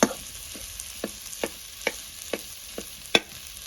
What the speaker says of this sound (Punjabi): ਆਪਾਂ ਸਾਰੇ ਆਲੂਆਂ ਨੂੰ ਚੰਗੀ ਤਰ੍ਹਾਂ ਮਿਕਸ ਕਰ ਲੈਂਦੇ